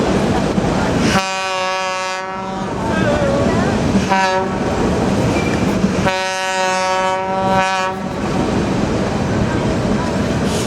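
Georgetown Loop narrow gauge train in Clear Creek County, Colorado rolling loudly along its tracks with steady rumble and clatter, while its horn sounds in two long, strong blasts.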